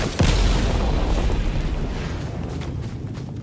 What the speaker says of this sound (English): Wanna see a giant explosion?